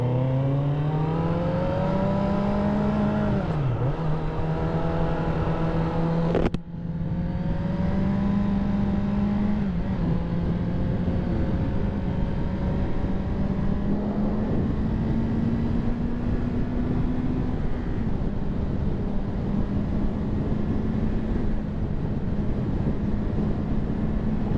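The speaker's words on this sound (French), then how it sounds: "j'ai mis l'accélérateur à fond et la moto n'accélère pas en fait" A 2024 Kawasaki Z900 A2 four-cylinder motorcycle held at full throttle gives a sustained, loud engine drone with a steady, slightly rising pitch and a brief dip in the middle, heard alone without talk.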